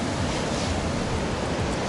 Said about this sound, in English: Oh, there's a wave coming.